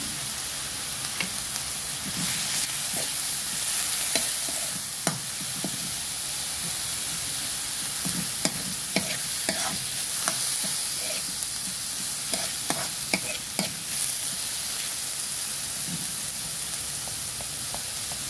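Chicken and rice for arroz caldo are stirred in a pot over a continuous close sizzle and hiss, with irregular scrapes and knocks of the utensil against the pot throughout and no talking.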